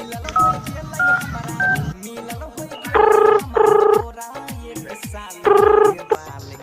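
A phone call being placed: a quick run of short dialing tones, then two long buzzing rings and a third a moment later, close and clear, with brief background sounds between them.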